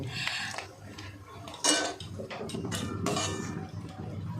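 Boiled Maggi noodles being tipped into a metal strainer, with scattered metallic clinks and scrapes over a steady background hiss of draining water and kitchen noise, one sharper clatter partway through.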